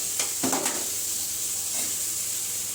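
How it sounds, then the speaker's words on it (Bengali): Fish pieces go into a pan of eggplant curry with a quick couple of clatters, then a soft, even sizzle hisses on quietly. "তো এখন আমি মাছগুলি দিব"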